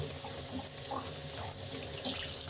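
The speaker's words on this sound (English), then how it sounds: "I'm gonna refill the sink with lukewarm water" Lukewarm water runs from a tap into a kitchen sink being refilled for washing fruit, a steady close rushing splash that continues unbroken with no voices.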